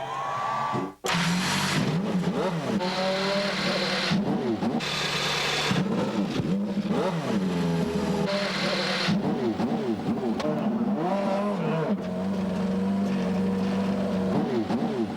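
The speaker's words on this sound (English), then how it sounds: "Gentlemen, start your engines." A field of 28 Indy cars at the 1995 CART Long Beach street race on Shoreline Drive fire up and rev together, a loud, continuous mass of rising and falling engine whines with no pauses.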